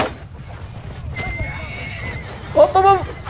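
Horse neighing in the medieval battle game Mount & Blade II: Bannerlord, a sharp whinny near the end with galloping hooves and battle noise beneath, while someone talks excitedly in Arabic.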